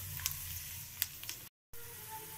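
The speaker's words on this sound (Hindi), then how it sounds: "अब मैं इसमें सबसे पहले लहसुन डालूंगी।" Garlic hits hot oil for a tadka for kadhi pakora, a steady close sizzle with a few sharp crackling pops, then a short break before the frying hiss continues.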